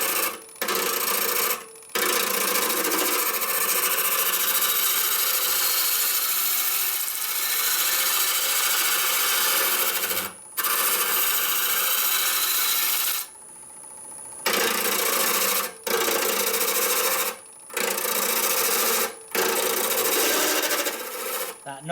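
Wood lathe tool chatter while turning a maple burl bowl with the tool overhanging the rest, a loud harsh rasping scrape that is close and continuous, cut by several short pauses where the tool lifts off.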